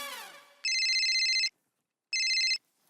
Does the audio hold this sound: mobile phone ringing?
yes